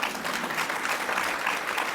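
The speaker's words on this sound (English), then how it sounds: "Y'all need to clap about that." An audience at an International Women's Day event claps together in a steady, even burst of applause, with no talk over it.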